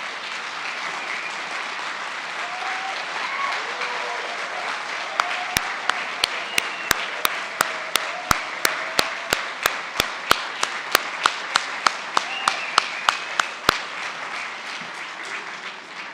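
Applause at a conference closing session for the IAPB team, a broad steady wash of many hands clapping that runs throughout, with sharper individual claps standing out over the middle stretch.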